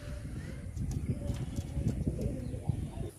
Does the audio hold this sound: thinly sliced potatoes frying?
no